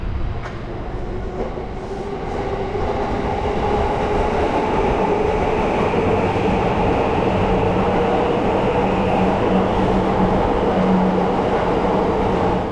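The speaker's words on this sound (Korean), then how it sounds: "마침 전철이 지나가는데 한번 들어보시죠." A commuter train rumbles past right beside a house in Tokyo, a loud, steady roar with rolling rail noise that builds in the first seconds and holds throughout, no voices.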